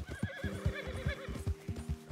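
A horse in Red Dead Redemption 2 whinnies in a long wavering call over a steady run of clip-clopping hooves, close and fairly quiet, with no talk over it.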